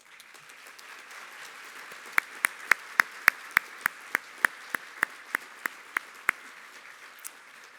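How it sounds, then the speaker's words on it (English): Applause from a crowd at a community college commencement, a soft distant wash of clapping with one nearby person's sharp, evenly spaced claps standing out over it. "please stand for a round of applause"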